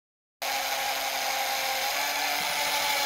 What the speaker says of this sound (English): Mark and drill the holes.